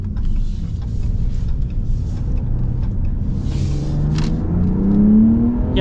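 A 2025 Ram RHO truck engine revs hard toward redline, a loud rumbling roar that climbs steadily in pitch over several seconds, heard close with no talk.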